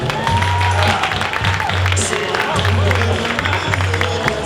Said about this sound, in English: A big round of applause for Misa Cosplay.